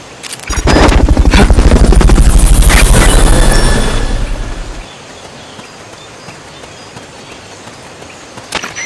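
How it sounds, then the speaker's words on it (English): Helicopter from the video game Metal Gear Solid Peace Walker, a loud close rhythmic rotor thump that swells in for about four seconds and then fades away, leaving quiet game ambience. "Fulton recovery subject confirmed onboard helicopter."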